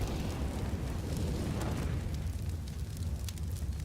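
Grenade blasts from a Counter-Strike match at a professional esports event, heard as a continuous low rumbling roar with scattered crackling pops, fairly distant and sustained rather than a single sharp bang.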